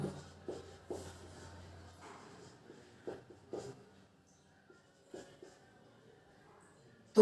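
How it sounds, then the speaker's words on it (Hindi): Pen or chalk scratching in short strokes during a Sanskrit lesson, several brief bursts then pauses, faint and close with no talking. "यहां पर हम लिखेंगे"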